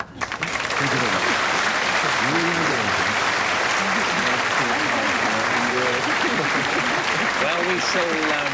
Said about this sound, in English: Applaud them both, if you please.